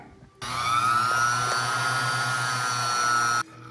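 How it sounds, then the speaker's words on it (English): A power drill bores a pilot hole in a brass hanger for a carved figure, whining steadily for about three seconds at close range before it stops. "I'm drilling a pilot hole in it."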